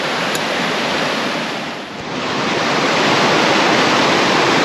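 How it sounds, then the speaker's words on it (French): Loud, continuous rushing water from a mountain torrent close by, a dense roar that dips briefly before surging back. "ça fait beaucoup de bruit ce torrent"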